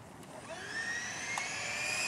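A scale model F-18 jet with twin ducted fans runs with a steady high-pitched turbine whine that rises slightly in pitch and volume, heard from a moderate distance.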